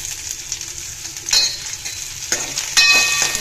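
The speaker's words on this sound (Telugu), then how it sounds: "ఇది బాగా ఫ్రై అవ్వాలి" Sliced ridge gourd sizzles steadily in oil, a bright continuous fry with stirring scrapes and a few louder clattering bursts of the spatula against the pan, no voices.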